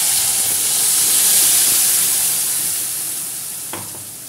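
Loud, steady sizzling and hissing as tomato gravy is added to hot oil with fried curry leaves, with a brief clink of a utensil near the end.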